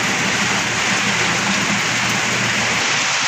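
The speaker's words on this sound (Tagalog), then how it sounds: "grabe gyud ang ulan, di gyud mabangbang kakusog sa ulan" Heavy rain pounds down on a farm in a loud, unbroken hiss of downpour heard up close, with a low rumble beneath and a slight drop in intensity near the end.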